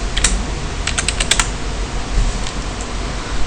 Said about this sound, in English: Type admin.